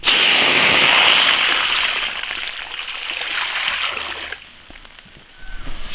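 Water is poured into a hot iron wok of frying big bones for braising, with a loud, close hiss and splash at first that gradually settles into a softer bubbling.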